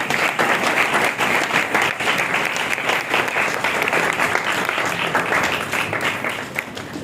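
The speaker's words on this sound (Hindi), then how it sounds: "खुदा के बंदा को वेलकम करते हैं भरपूर तालियों में, खुशी के साथ" A congregation at a Palm Sunday church service gives loud, dense, continuous applause to welcome the preacher, holding steady for about seven seconds before tapering slightly at the end.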